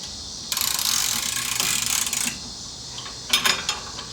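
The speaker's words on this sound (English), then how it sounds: "Pretty tight now, so I'm going to go ahead and just give her a final torque." Ratchet torque wrench clicking as it brings a strut nut to final torque on a Porsche 987 Cayman's front suspension, a dense run of ratcheting followed by a few sharper clicks, close and alone.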